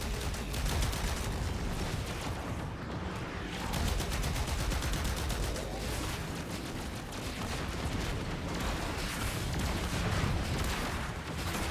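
Heavy bombardment gunfire in a Warframe Railjack space battle, a dense, continuous barrage of crackling shots and rumbling blasts, moderately loud and sustained throughout with no voices.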